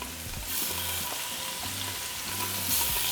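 Ribs sear in hot oil inside an Instant Pot, giving a steady close sizzle and crackle with a low rumbling hum beneath and occasional pops, no voices.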